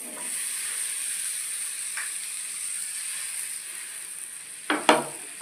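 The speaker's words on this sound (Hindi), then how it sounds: "ये देखिए तवा हमारा गर्म हो गया है, तो अब इसमें हम लोग ये जिसमें मक्खन लगाए हैं ब्रेड को" Buttered bread is laid on a hot tawa griddle, giving a faint steady sizzling hiss, then a couple of brief louder scrapes or presses near the end.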